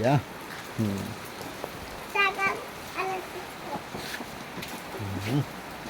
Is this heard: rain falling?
yes